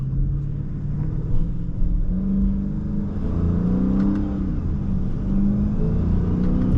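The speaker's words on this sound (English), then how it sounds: "Bro, y'all hear my supercharger?" A supercharged 2023 Dodge Charger Scat Pack Last Call with the 392 V8 rumbles and revs steadily from inside the car, a deep continuous engine drone with slight rises in pitch.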